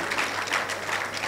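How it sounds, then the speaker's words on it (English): A church audience applauds steadily in a brief burst of dense, even clapping at moderate volume, with no voices over it. "Let's clap for Jesus."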